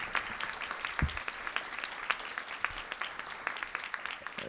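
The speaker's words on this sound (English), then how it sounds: "Please give yourselves a big round of applause." Scattered audience clapping at a high-impact tutoring summit plenary, quiet and distant-sounding, with distinct individual claps in an uneven patter rather than a dense roar.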